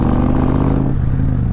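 An Indian Chief motorcycle fitted with a Freedom exhaust rumbles along city streets in a steady, loud, deep engine drone at a continuous throttle, heard alone and up close.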